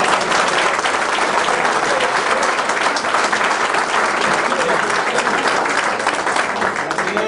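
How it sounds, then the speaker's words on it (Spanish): Loud, continuous applause from a crowd at a company-sponsored event, dense and even throughout. "Bueno, un aplauso."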